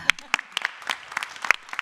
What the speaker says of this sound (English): On applaudit le grand Caléo qui n'est plus si petit que ça.